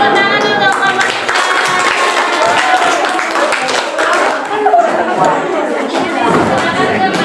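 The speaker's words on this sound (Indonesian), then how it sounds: "Beri tepuk tangan untuk kelompok kita." Classmates clap for a group after its classroom presentation, a loose burst of hand claps mixed with lively chatter and talking voices close by.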